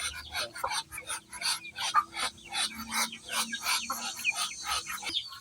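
Backyard chickens cluck and chirp in quick bursts close by, with ducks and chicks kept nearby, a steady stream of short calls running through the whole stretch.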